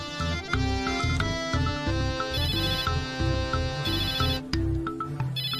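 An incoming call rings on a mobile phone with a musical ringtone, a melodic electronic tune repeating in steady beats, loud and close, with no talking over it.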